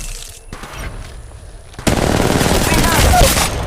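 Bursts of automatic gunfire from the Apex Legends Mobile game, starting quieter, then rising to a loud, dense stream of rapid shots from about the halfway point.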